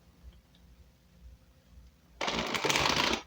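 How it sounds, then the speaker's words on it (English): Quiet room tone, then a sudden burst of brisk riffling as a deck of tarot cards is shuffled close by for about a second. "One more good shuffle."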